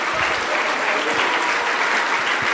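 Loud, dense applause from a church congregation clapping enthusiastically for Jesus, a continuous roar of many hands close and steady throughout.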